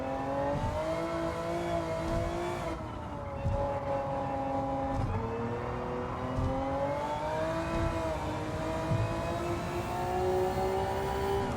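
A Honda NSX GT500 race car engine in Gran Turismo 7, lapping the Tokyo circuit, howls at high speed with a sustained, loud tone that dips briefly at gear changes and climbs again.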